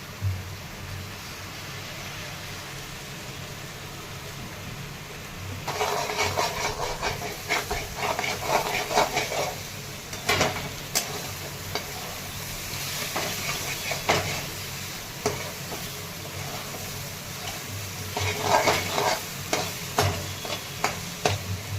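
Cracked eggs fry in a pan with coriander for masala egg bhurji, giving a steady sizzle and hiss broken by repeated scraping and stirring clatter that grows busier after the first few seconds.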